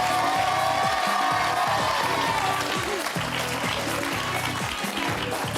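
A studio audience at the Motus game show applauds the finalists with loud, sustained clapping and some cheering throughout, while a host's voice talks over the ovation.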